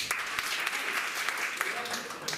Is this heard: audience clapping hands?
yes